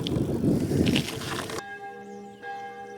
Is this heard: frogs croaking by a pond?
no